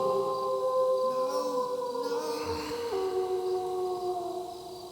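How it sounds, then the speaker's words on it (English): Dog howling in the Shivers puzzle mystery game, a faint rising and falling wail set against a steady eerie ambient drone with sustained tones. "That was just a dog howling."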